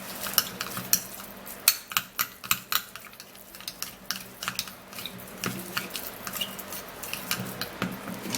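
A Vaseline and egg skin mixture being stirred in a bowl, a run of sharp, irregular clinks and scrapes of a utensil against the bowl, fairly close and quiet, with no talking.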